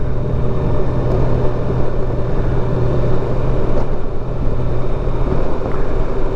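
A car engine drones steadily and close while cruising after a gear change, an even, unbroken hum with no voices over it.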